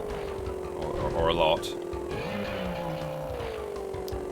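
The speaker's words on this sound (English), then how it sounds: "Get used to this engine noise, because I'll be hearing it for a while." A steady droning engine hum from a vehicle in Crash Bandicoot 3: Warped holds through the whole stretch, with a brief pitch rise midway, while a voice talks over it.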